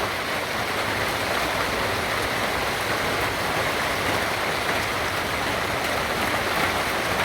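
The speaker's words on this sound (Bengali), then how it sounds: "প্রচণ্ড বৃষ্টি।" Heavy rain pours down suddenly in the afternoon, a dense, steady hiss of drops drumming without a break, close and loud throughout with no voices.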